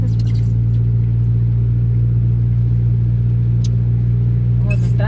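Steady road traffic on the way to an airport in the rain, a constant low engine rumble with cars passing close and loud, people talking over it.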